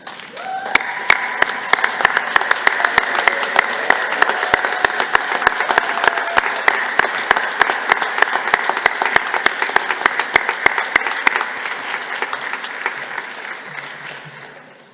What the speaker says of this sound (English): I'd like you to applaud and cheer to them